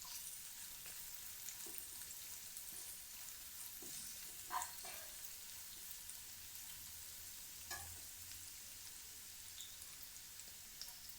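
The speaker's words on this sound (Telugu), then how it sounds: "క్యాబేజ్ కొంచెం లేట్గా ఫ్రై అవుతుంది కాబట్టి ఫస్ట్ క్యాబేజ్ వేసుకున్నాం" Cabbage and other vegetables for fried rice fry in a pan, making a soft, steady hiss with a few small pops and clicks, fairly quiet and without talk.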